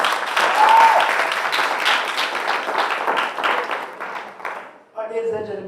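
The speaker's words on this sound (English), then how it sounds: "Let's give them a round of applause." Audience applause at a national debating championship final, a dense steady wash of clapping from a large crowd that fades near the end before a voice begins speaking.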